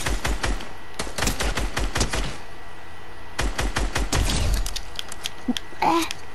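Pistol shots ring out in Fortnite, a battle royale shooter: rapid bursts of sharp, loud cracks in quick runs, a short pause, then more fire and scattered game effects near the end.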